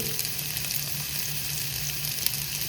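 Chopped onions sizzle steadily in hot oil in a pan while being stirred, a close, even frying hiss throughout with no voices.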